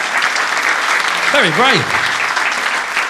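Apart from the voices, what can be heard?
audience applause at a comedy magic show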